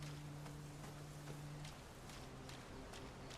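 Steady broadband rush of a waterfall in the video game Clair Obscur: Expedition 33, an even wash of falling water with faint tapping footsteps and a low droning tone underneath, no talk.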